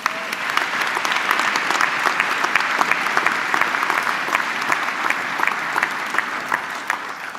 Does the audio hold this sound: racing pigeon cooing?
no